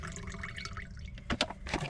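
Water poured into a Jetboil stove's container inside a camper van, a soft gurgling trickle with a brief splashy burst near the end.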